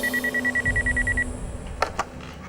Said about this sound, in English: Sure enough, the phone rings.